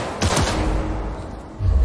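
Gunfire at a shooting-range target in the video game Cyberpunk 2077, loud shots with a dense burst near the start that fades into a rumbling tail, then a heavy thump at the end, with no speech.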